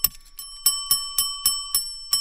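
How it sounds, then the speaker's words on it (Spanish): Doorbell in a Spanish-language radio drama rings in sharp, evenly spaced repeated bursts, about seven strikes in two seconds, bright and metallic, heard alone without talk. "El timbre seguía sonando."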